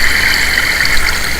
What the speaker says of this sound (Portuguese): a gente sai de lava e acha água